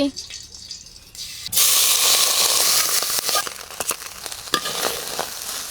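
Ghee bursts into a loud, steady sizzle in a hot pan while cooking wedding-style shahi jorda pulao with parboiled rice, following a quieter opening, with scattered clinks and stirring scrapes.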